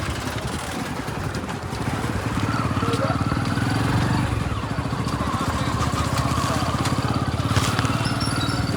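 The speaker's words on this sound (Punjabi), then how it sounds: "ਮੋਟਰਸਾਈਕਲ ਜਾਏਗਾ" A motorcycle engine runs steadily with a low, throbbing rumble, close by and continuous throughout, with faint street noise behind it.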